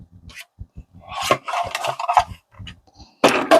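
A small paper trimmer chops through a piece of journal ephemera with a quick close slicing rasp, a short scrape and then a sharper cut near the end, set among faint handling clicks and taps.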